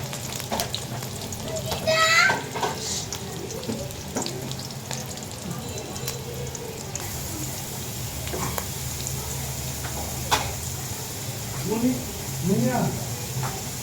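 Onions frying in hot oil in a cooking pot on a stove, while a gourd dish is being made: a steady low sizzle runs throughout, with a few brief clatters and faint background voices.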